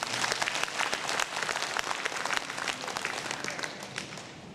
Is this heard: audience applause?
yes